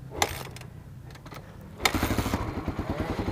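A dual-sport motorcycle engine sputters through a few irregular coughs and pops. It then catches briefly into a rough, pulsing low chug before stalling, all close to the listener.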